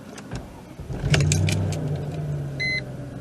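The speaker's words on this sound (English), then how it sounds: "Let's start the car for you." A V8 Mercedes car engine cranks and fires up, then settles into a low, steady idle close by. It is joined by jangling keys and a short electronic chime near the end.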